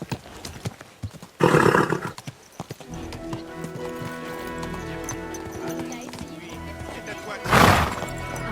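A horse in a video game snorts and whinnies loudly in two bursts, separated by a stretch of sustained tonal background sound, with speech also present in the clip.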